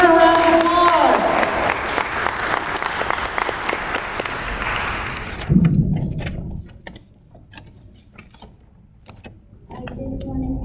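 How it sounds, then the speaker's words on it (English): Applause from an audience at a school princess pageant, a dense steady clatter of clapping for the first five seconds that drops away into quiet room noise with faint shuffles and murmurs. "Let's give her a round of applause."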